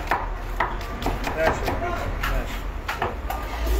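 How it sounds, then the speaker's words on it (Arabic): A knife chops hot chili peppers on a board at a street food stall serving liver and hawawshi, with quick irregular knocks close by and people talking over them. "زي ما انتم شايفين تقطيع الشطه دي مولعه"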